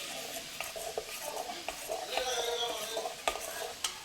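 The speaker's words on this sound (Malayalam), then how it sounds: "ഇത് നന്നായിട്ട് മിക്സ് ചെയ്ത് വെക്കാം" Batter being mixed by hand in a bowl: a quiet, continuous wet stirring with soft repeated scrapes and taps of a utensil against the bowl, fairly faint and close.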